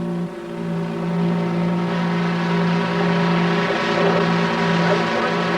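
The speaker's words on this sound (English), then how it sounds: "Snow fighters tried to keep the lines open with spreaders, snowplows that pushed the huge drifts to the side." A railroad snow spreader plow clears deep drifts on Donner Pass with a loud, continuous, steady engine drone and a strong low hum that holds throughout.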